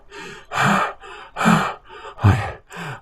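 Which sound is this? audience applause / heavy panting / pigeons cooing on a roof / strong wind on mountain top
heavy panting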